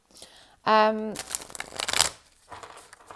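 A deck of tarot cards is shuffled in a burst of papery riffling that follows a brief ringing tone, close and moderately loud, then settles into quiet rustling.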